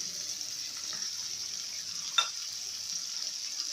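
Chicken korma frying in a pot gives a steady, soft sizzle with a brief stirring scrape partway through, close and alone without talk.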